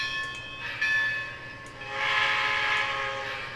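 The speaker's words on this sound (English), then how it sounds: "And that is definitely a different whistle." A model train's DCC sound decoder plays a steam-style whistle, a loud, close tonal blast that rises and swells for a couple of seconds over the continuous hum of the locomotive sound.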